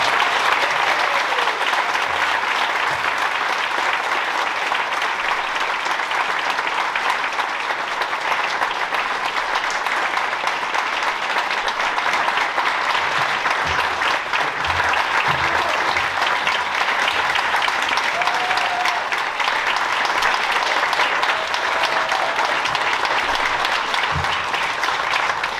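Loud, sustained audience applause at an honor graduate awards ceremony, a dense steady wash of clapping filling the hall without pause for about twenty-five seconds, with no one speaking over it.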